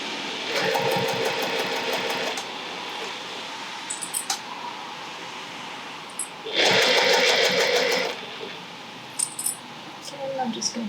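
Short bursts of a sewing machine stitching layers of a clutch bag, a rapid mechanical rattle in two main runs separated by quieter pauses and small clicks.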